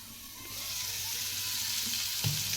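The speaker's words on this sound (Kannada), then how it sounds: "ಒಂದು ಸೈಡ್ ಮಸ್ತ್ ಫ್ರೈ ಆಗ್ಯಾವ ಇನ್ನೊಂದು ಸೈಡ್ ಫ್ರೈ ಆಗ್ಬೇಕು ಈಗ" Bangda mackerel fish frying in a pan, with a steady, dense hiss of hot oil that builds slightly and holds, ending with a brief clatter near the close.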